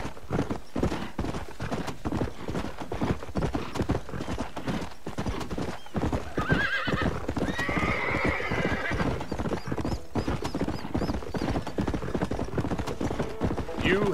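Horse hooves clip-clop in a steady rhythm while a horse neighs and whinnies in Red Dead Redemption, loud and close, mixed with game sound effects; someone talks over it in Spanish.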